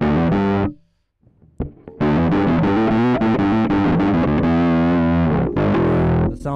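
Electric bass played through an Aguilar Tone Hammer preamp set to the mid position, giving a thin, driven, distorted tone. Loud, close notes and chords start, pause briefly, then resume in a dense run.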